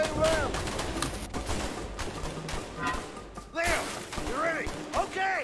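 Gunfire and impacts from the video game A Way Out ring out in a busy stretch of shots and thuds, mixed with game sounds and voices talking over the action.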